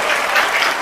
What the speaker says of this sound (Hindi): जोरदार तालियां हो जाए इसके लिए